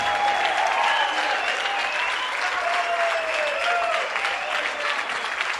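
A church congregation in Venezuela stands and applauds, loud sustained clapping from many people with voices calling out over it throughout.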